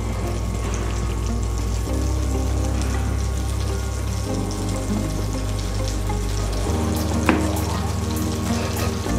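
Butter browning in a pan for a club sandwich, a steady close frying sizzle with a low constant hum beneath and no voices.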